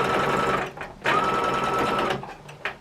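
A sewing machine stitches a scrappy crumb quilt border in close, loud bursts: a long run, a brief stop, another steady run, then a short final spurt.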